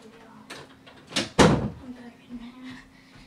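A door opening or closing indoors, a couple of brief knocks and one louder thump around the middle, with quiet room noise and faint background voice.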